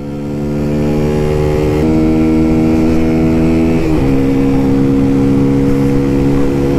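A Peugeot PM01 125cc motorcycle engine with its stock exhaust revs loudly up close, a sustained buzzing drone that climbs, dips briefly near the four-second mark, then holds high.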